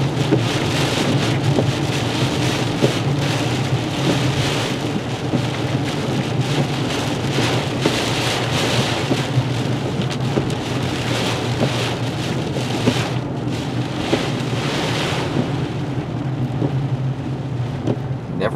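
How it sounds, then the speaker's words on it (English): Heavy rain from Hurricane Irma pounds around a car driving into Vidalia, Georgia, a loud dense steady roar that lasts the whole stretch and eases slightly near the end, with no voices. "Driving into Vidalia with a lot of heavy rain."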